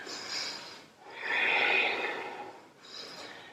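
Slow, audible breaths during a hatha yoga pose, a soft inhale, a longer exhale and another inhale, close and unaccompanied.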